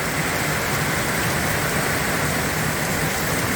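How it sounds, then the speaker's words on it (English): Steady rain falls on a sheep farm in late summer, a dense, even hiss that stays constant and fairly loud throughout with no voices. "oh yeah, good rain, good rain. Good rain."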